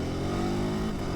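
A 2026 Ducati Monster motorcycle engine pulling hard in second gear around 4000 rpm, a loud, close, steady growl lasting about a second.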